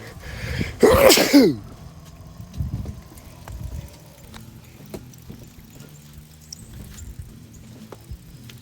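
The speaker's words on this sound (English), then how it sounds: "Sun's got me sneezing." One sharp, loud sneeze bursts out near the start in an outdoor garden, followed by faint rustling and quiet handling sounds with no talking.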